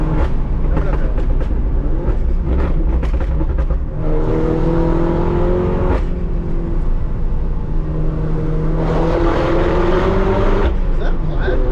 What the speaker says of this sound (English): I don't know if you can hear my turbo, but it is all the time